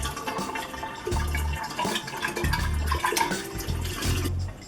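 Hot water gushes and splashes in repeated bursts through a sink P-trap being rinsed out, pouring and draining with gurgling pulses, loud and close, with no voices.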